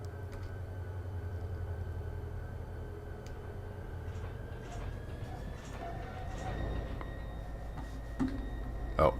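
A thin, high metallic squeal of train wheels from a video game rises slightly in pitch over a low rumbling train hum, with occasional clicks and a louder clank near the end; the handbrakes are still set.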